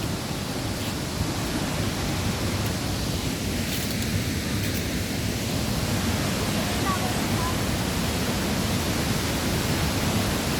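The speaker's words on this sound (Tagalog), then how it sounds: "Dito na kami sa tapat ng falls sa Lake Cebu." A steady, dense roar of falling water from a waterfall at Lake Sebu fills the whole clip, loud and continuous.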